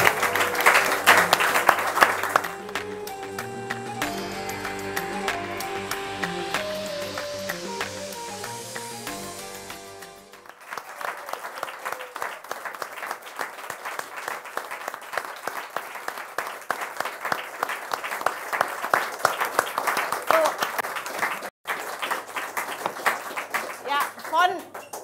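Audience applause welcoming a dancer from the Stuttgart Bollywood Dance Club, sustained dense clapping from a crowd that follows music and continues steadily for a long stretch.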